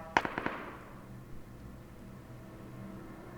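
A quick burst of sharp gunshots, three or four cracks in rapid succession, followed by a low ambient rumble that lingers, in PUBG on the Erangel map.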